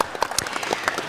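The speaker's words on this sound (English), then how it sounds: "Let's give him a round of applause" A conference audience applauds a panelist, a short burst of scattered hand claps of moderate loudness, slightly distant in a hall.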